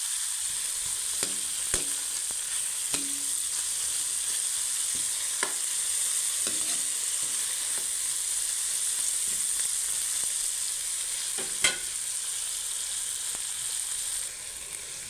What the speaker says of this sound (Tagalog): Pinirito ko na yan.